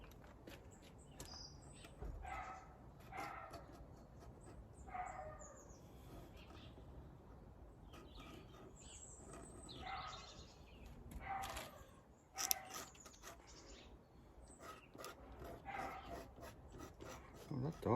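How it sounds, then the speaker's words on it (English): A dog barks repeatedly in a garden, sharp irregular yaps rising over quiet background with birds chirping, the barking carrying on at moderate distance and jumping louder near the end. "that dog doesn't really want to stop"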